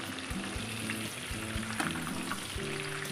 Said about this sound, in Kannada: ಲೋ ಫ್ಲೇಮಲ್ಲೇ ಇಟ್ಟು ಚೆನ್ನಾಗಿ ಫ್ರೈ ಮಾಡ್ಕೊಳ್ಳಿ